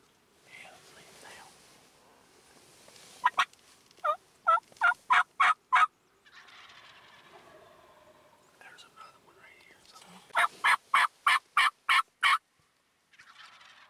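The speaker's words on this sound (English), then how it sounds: "That ain't them that gobbled. That's him gobbled." Wild turkeys in West Virginia gobble twice, each a loud rapid burst of rattling calls, with hushed whispering voices between them.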